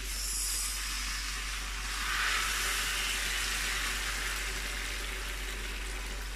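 Leek and bacon pasta simmering in hot water in a pot, a steady close hiss and bubbling sizzle with a brief louder swell midway, no talking.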